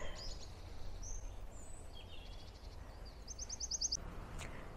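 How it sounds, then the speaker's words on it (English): Woodland birds on Exmoor, near running water, chirping faintly and intermittently, with one clear trilling call, over a low steady background hum of flowing water. "And we can hear the birds,"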